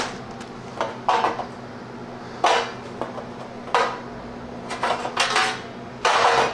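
Frozen mixed vegetables are tipped onto metal freeze-dryer trays, making intermittent clattering clinks and rattles in short bursts, each lasting about a second, with quiet pauses between them.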